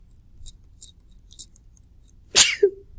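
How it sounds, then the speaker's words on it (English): A single sharp sneeze bursts out near the end, loud and close, after a few faint scratchy sounds in a quiet room. "I don't know if there's ever been a video where I haven't sneezed"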